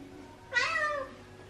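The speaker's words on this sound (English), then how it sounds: "You're an unusual cat, aren't you?" A Bengal cat gives a single clear, rising-then-falling meow close by, against a quiet room background.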